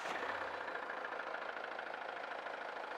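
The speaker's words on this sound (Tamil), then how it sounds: "இந்த வண்டியோட இன்ஜினை நம்ம ஸ்டார்ட் பண்ணி பார்ப்போம்" A Mahindra Thar 2WD diesel engine idles at a steady, even rumble, faint and unchanging, with no voices.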